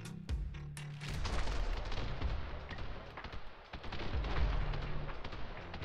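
A shotgun fires again and again in the video game The Hong Kong Massacre: loud, booming blasts in quick bursts over dense in-game action noise, with a brief lull near the middle.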